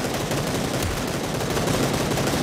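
Dense, rapid gunfire in PUBG: Battlegrounds rattles continuously and loudly up close, a sustained burst of shots with no talking.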